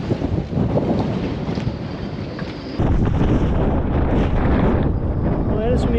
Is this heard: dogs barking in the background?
no